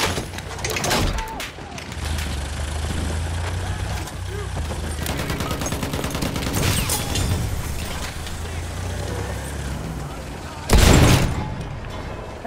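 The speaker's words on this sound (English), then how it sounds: "Enemy machine gun!" Machine gun fire in a Battlefield 1 Conquest match, heavy bursts of automatic shooting mixed with booms and battlefield noise, one loud close blast near the end, continuing under voices.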